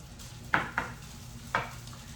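Rice and chicken stir-fry pushed to the sides of a pan, three distinct scraping sweeps of a utensil over a faint background sizzle, close and fairly quiet.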